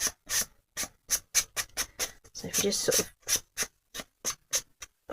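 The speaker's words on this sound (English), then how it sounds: "just going to take a sanding block and just tidy up those edges." A sanding block rubs along paper card edges in rhythmic back-and-forth strokes, each scrape close and crisp, with a person talking briefly partway through.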